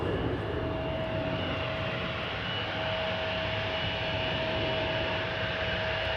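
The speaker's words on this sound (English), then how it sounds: "Another KLM 777-200 ER. This one going to Lima in Peru." A KLM Boeing 777-200ER jet airliner roars steadily at an airport, a loud continuous engine rush with a fixed high whine, no voices over it.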